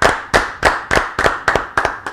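Applause for guest Andrea Gracis on a basketball show: a few close hands clapping in a slow, even rhythm of about eight sharp claps, loud and alone.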